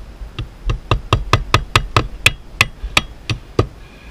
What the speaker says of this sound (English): I could go ahead and put a couple nails in it and then put the screws in later.